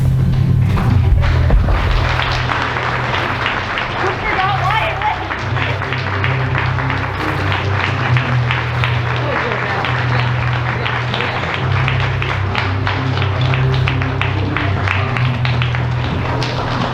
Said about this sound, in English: Hey, big round of applause to the 7th grade.